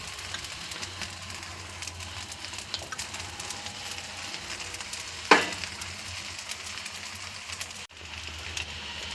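An onion dosa sizzles in oil on a hot pan with a close, steady frying hiss. A single brief metallic clink cuts through partway.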